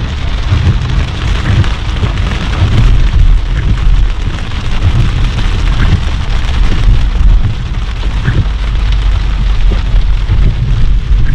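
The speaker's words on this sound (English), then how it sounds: "we are driving in the rain" Rain drumming steadily on a car roof and windshield, with the low rumble of the moving vehicle underneath and no talking.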